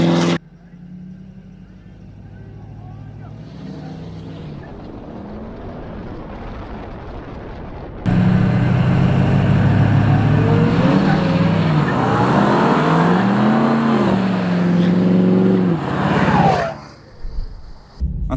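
A tuned 6.7 Powerstroke diesel truck, not in four-wheel drive, launches from a dig with one tire spinning: the engine note jumps abruptly into a loud, sustained roar with rising, wavering revs and tire squeal, then drops off near the end.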